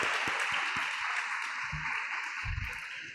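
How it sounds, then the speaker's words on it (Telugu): Applause from an audience at a nursing capping ceremony rises as a broad, steady patter of many hands that fades slightly toward the end, with a few low thumps underneath. "వారందరికీ కూడా గట్టిగా చప్పట్లు కొడదాము"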